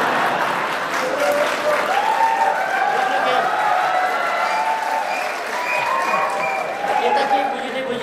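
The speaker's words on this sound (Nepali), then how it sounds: "त्यस कारण त्यताकोले ताली पड्काउनुहुन्छ" Audience applause at a political gathering, sustained dense clapping from a large crowd that rises and falls, with a voice speaking over it.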